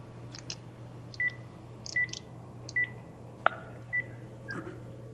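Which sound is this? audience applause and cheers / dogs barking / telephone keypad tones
telephone keypad tones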